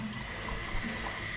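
Water trickles and runs steadily out of a toilet tank, a low continuous gurgling wash heard close up with no voices.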